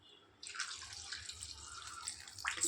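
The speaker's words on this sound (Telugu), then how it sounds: "మళ్ళీ ఈ విధంగా వేసి మళ్ళీ వాటర్ వేయాలి" Water pours steadily onto drumsticks being washed in a vessel, a close, continuous splashing flow that starts after a brief quiet moment.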